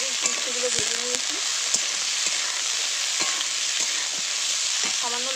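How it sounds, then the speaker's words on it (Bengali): Bitter gourd and chopped potatoes frying together in a pan, a bright continuous sizzle with a few light clicks of stirring, close and steady throughout. "উচ্ছেগুলো একটু ভেজে নিলাম, এখন কুচানো আলুগুলো দেবো।"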